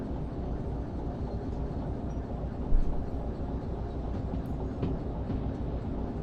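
A train rolls along in the video game Derail Valley with a continuous low rumbling drone, one heavier thump standing out briefly partway through.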